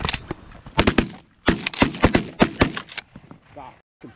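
Shotguns fired during a goose hunt in North Dakota, a rapid volley of loud sharp cracks from several guns in quick succession over about two seconds, followed by quieter voices and rustling.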